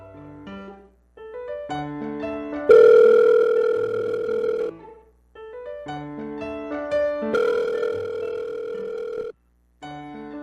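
Telephone sound effect for a Tagalog radio drama: rhythmic dial or keypad tones followed by two loud, sustained ringing bursts separated by short silences, with no voices over it.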